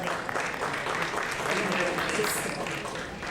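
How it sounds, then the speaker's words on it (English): Audience at a supply chain conference panel applauding steadily, a dense wash of clapping from many hands that holds at even volume throughout, heard from within the room. "Let's have some claps."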